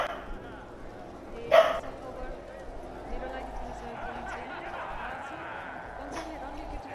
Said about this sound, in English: so that was just my dog.